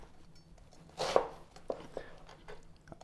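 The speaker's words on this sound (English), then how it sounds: "I just kind of cut it in half and then slice it quite thin like that." A knife slices a cabbage thinly for coleslaw, making one sharp crunching cut followed by a few lighter, quieter chops close by.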